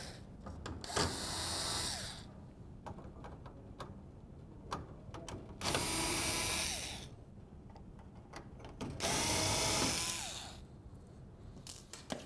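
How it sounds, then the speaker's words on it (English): Four Phillips screws being driven out of a plastic housing with a power driver, heard as three whirring bursts separated by light clicking and handling sounds, close and fairly quiet, with no talking. "Next, you're going to want to remove the housing. There's four screws."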